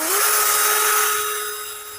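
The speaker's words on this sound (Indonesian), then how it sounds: "Sekarang kita cek di kecepatan satunya." A modified 12V cordless battery drill spins up quickly and holds a loud, steady high-pitched whine for about two seconds, heard alone and close.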